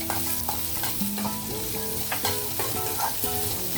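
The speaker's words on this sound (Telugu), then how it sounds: "ఉల్లిపాయ, క్యారెట్, పచ్చిమిర్చి వేసేస్తున్నాను" Onion, carrot and green chilli fry in a pan with a dense, steady sizzle, while a utensil stirs them in irregular scraping strokes, close and continuous.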